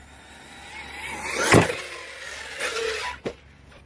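Arrma Kraton 6S RC truck running on an old 6S battery pack through long grass, its motor whining and surging in bursts with a louder pass midway and a sharp knock near the end, no talking.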